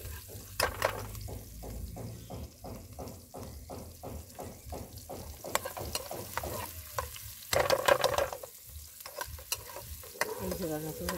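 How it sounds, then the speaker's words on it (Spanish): Shrimp, a pound of them, sautéing in a pan for Salvadoran rice with shrimp, with vegetables like carrot and green beans nearby; a steady sizzle under rhythmic stirring scrapes, growing busier toward the end. "Ahí se van a sofreír los camarones"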